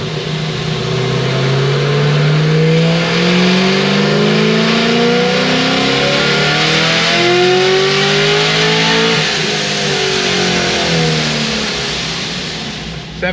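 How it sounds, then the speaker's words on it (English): A Procharged Chevy SS engine revs hard and climbs through repeated loud, close pulls with a supercharger whine, pitch sweeping up and easing back between runs. "All right, let's rev it out a little further now."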